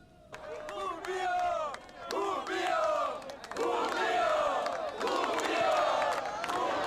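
Brazilian fans roar at the 2003 Brazilian Grand Prix, a loud, dense crowd of chanting and shouting voices that swells in waves and keeps up continuously throughout.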